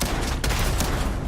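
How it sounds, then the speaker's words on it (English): A shotgun fires in the space game Starfield: dense, loud blasts with a sharp crack near the middle and another shortly after, set in a thick, continuous wash of combat noise with no talking. "Shotgun out for this one."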